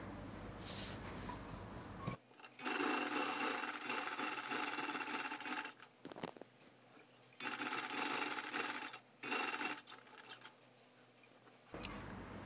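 A sewing machine stitches the neckline of a kurti in bursts of steady whirring, running for a few seconds, pausing briefly, then starting again, close and clear with no talking.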